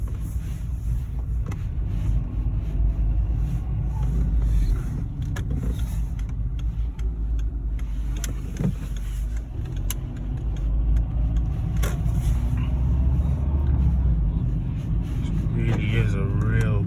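A 2004 Seat Ibiza 1.4 with a four-speed automatic gearbox pulls away from rest, its low engine hum and road rumble steady inside the cabin while someone speaks over it.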